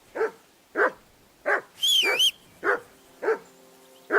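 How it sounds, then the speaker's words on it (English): A dog in the medieval video game Kingdom Come: Deliverance II barks repeatedly in evenly spaced single barks, close and loud, with a brief higher whistling tone in between. "Jesus, Henry, that barking's driving me nuts"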